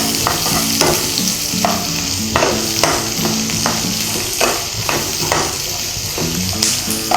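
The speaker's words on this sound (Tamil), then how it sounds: "பச்சை வாடை போகிற வரைக்கும் அது நல்லா வதங்கணும்." Chopped beans and vegetables sizzle in hot oil for rava upma, loud and continuous, with rhythmic scraping as a spoon repeatedly stirs them in the pan.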